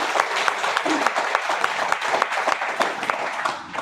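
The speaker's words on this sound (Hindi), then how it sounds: "तो एक बार आदरणीय टीसी सर के लिए जोरदार ताली होना चाहिए।" A seminar audience in Faridabad breaks into steady, dense applause, many hands clapping together at a moderate distance, with faint voices beneath.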